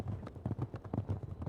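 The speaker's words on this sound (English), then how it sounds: "Look at that horse." Horse hooves clip-clop in a steady, repeating rhythm inside a video game, moderately close and fairly quiet, with no talk over them.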